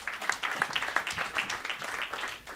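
Audience applause for a performer at a Dutch live music show, a scattered patter of hand claps holding steady for a couple of seconds, moderately close and fairly quiet.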